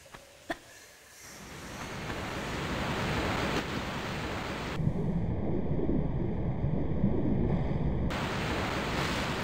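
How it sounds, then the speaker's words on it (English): Steady rushing waterfall roar in Tomb Raider Remastered, a broadband wash of falling water that swells after a brief quiet start and keeps pouring continuously, with a faint tonal hum joining midway. "Waterfall."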